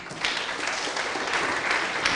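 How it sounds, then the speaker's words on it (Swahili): Steady applause from an audience at a gathering in Mombasa honouring influential Kenyan Muslims, a dense, continuous wash of clapping that swells slightly and holds for the whole stretch without talk. "A better round of applause, please."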